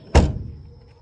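The door of a 2003 Fiat Uno shuts with a single solid, close thunk that fades quickly into a quiet interior.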